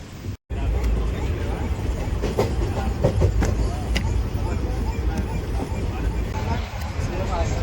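The Venkatadri Express rolls along with a loud, continuous rumble and rhythmic rattling of its wagons, heard from inside the train as passengers talk beneath it.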